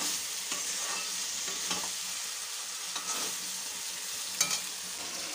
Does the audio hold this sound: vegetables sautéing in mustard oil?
yes